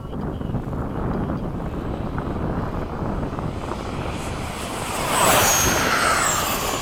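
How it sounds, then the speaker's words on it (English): A Freewing 80mm F-5 RC model jet roars past at a flying field, a steady loud jet rush over wind noise that swells and brightens near the end as it passes close. "considering the size of that plane, that thing moves"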